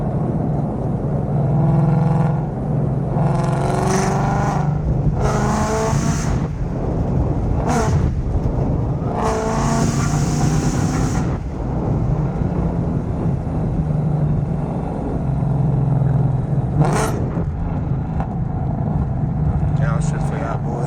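A 500 hp Ford Mustang GT V8 on a cold morning revs hard and downshifts in repeated bursts, the engine rising and dropping loudly in pitch between shifts, with someone talking between the pulls.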